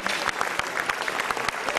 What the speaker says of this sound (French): On applaudit bien fort Liliane d'avoir eu les mêmes pensées que moi.